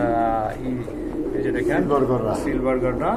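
Soft, throaty cooing of a single female pigeon repeats steadily, with a person talking over it.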